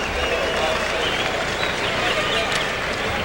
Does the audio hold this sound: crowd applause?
yes